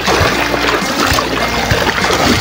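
Strong river current rushing around a person wading through cold spring water in Abra, a steady broadband wash with splashes and trickles close by, loud and continuous with no talk.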